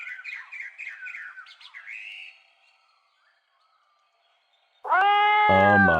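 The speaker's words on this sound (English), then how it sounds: "That's a cat." A single loud cat meow rings out in a horror video game, standing alone and close after a stretch of near silence that follows fainter chirping sounds.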